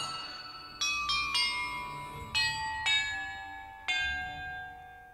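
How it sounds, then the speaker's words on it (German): Bells ringing in Hogwarts Legacy, struck one after another in a sequence of about six clear, resonant tones, each ringing on and decaying, with no talk over them. "in welcher Reihenfolge ich die Glocken läuten muss"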